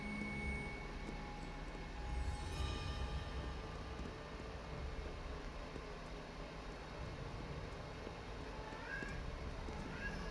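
A kitten meowing in the Hogwarts Legacy video game, faint, high cries heard beneath a steady low rumble of game ambience, with no clear speech over it.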